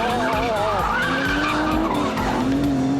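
A big GT supercar's rear slides out on a tight circuit corner, tyres squealing loudly and continuously over the wavering engine note, close and sustained throughout.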